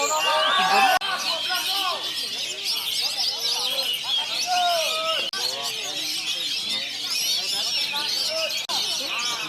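Many songbirds at a crowded outdoor bird-singing contest keep up a dense, overlapping chorus of chirps and trills, with a crowd murmuring underneath throughout.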